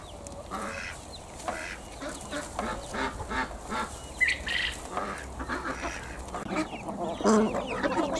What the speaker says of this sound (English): the chickens and ducks are fed as well